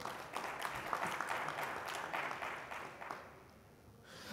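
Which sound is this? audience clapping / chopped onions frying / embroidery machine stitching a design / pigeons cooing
audience clapping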